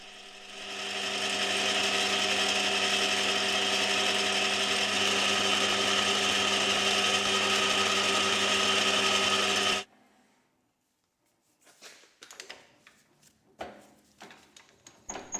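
A HAFCO AL320G metal lathe turns a steel shaft down to 15.6 mm, a loud, steady whining hum for about ten seconds that stops abruptly, followed by scattered clanks and handling knocks.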